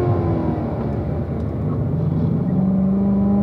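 Sports car engine on a race track at a performance driving school as the driver lifts off the gas for a turn: a steady, loud, close droning rumble with a rising whine and no talk.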